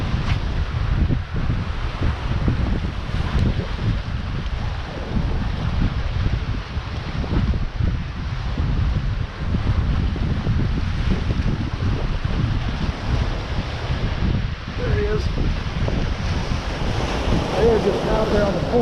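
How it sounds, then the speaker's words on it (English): Strong wind buffets the microphone at a seaside jetty on Perdido Pass, a constant low roar mixed with surf washing below, loud and unbroken throughout. "And it's windy as hell."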